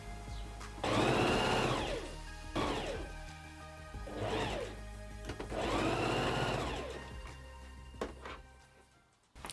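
A sewing machine stitching fabric strips runs in several bursts of whirring, humming motor noise, stopping and starting again with short pauses between runs.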